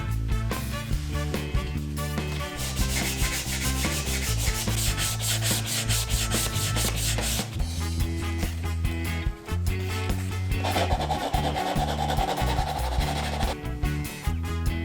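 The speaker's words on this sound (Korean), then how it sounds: "결합된 모서리 면을 위주로 날카로운 부분을 한 번 더 정리해 줍니다." Sanding the joined edges of a wooden bear-shaped tissue holder, heard as close, rhythmic back-and-forth rubbing strokes of abrasive on wood, steady and alone for the whole stretch.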